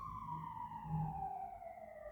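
Sirens from ambulances and fire engines passing outside, heard as a faint, distant wailing tone that slowly falls in pitch, muffled through a room with a low background rumble.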